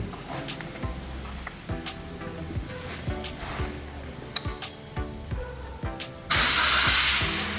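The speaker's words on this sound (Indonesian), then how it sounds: "Kita coba hidupkan mesin." A car engine is started after fault codes are cleared following a MAP sensor repair. Close clicks and clatter lead up to a sudden steady, loud running roar near the end, and the engine still has some vibration.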